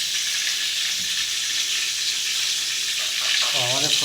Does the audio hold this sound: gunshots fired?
no